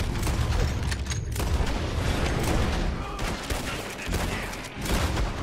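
Rapid volleys of gunfire from a crowd of bounty hunters in Red Dead Redemption 2, loud and continuous, with overlapping cracks and booms dense over a rumbling low end.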